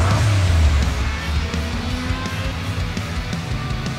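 A race car in the Hot Wheels Unlimited video game drives with a loud, steady engine drone that briefly rises at the start, then holds a continuous roar with light tire noise and no talking.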